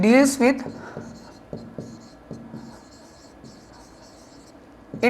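Writing on a board during a civil engineering lecture on soil mechanics produces soft, intermittent scratching strokes at moderate distance, with someone talking at the start and end.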